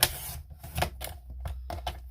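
A handheld paper trimmer blade is pulled along a sheet of paper, giving a quick run of close, dry clicking and scraping ticks in an uneven rhythm, with no talking.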